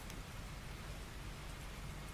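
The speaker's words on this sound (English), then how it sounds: "And it's raining, sounds like." Rain in the train simulator game Derail Valley, a faint, even hiss of falling drops with no voices over it.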